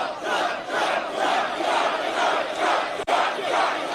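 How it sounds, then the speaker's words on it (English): A huge rally crowd roars and cheers loudly and without a break, its noise swelling and falling in rhythmic waves as if chanting. "What a crowd."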